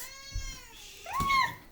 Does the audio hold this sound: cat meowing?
yes